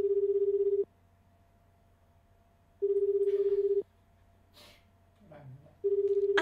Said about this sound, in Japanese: もう一度お電話つなぎします。